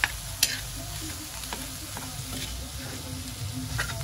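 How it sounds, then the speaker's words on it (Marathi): Paneer pieces being broken up with a spoon in a pan during cooking of paneer bhurji, a quiet steady sizzle with occasional clicks and scrapes of the spoon against the metal, close and soft. "आता पनीरचे मोठे तुकडे केले आहेत ते आपण थोडेसे चमच्याने बारीक करायचे आहेत"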